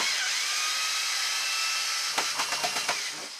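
A heavy power drill bores into a glass bottle in a series of short, rhythmic bursts near the end, over steady background noise.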